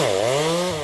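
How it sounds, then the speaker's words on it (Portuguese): A chainsaw engine runs steadily at high revs, loud and close, its harmonic whine wavering slightly as it cuts holes into felled timber in an illegal logging area along the BR-163 highway in Brazil. "utilizando a motosserra para fazer furos nessa madeira"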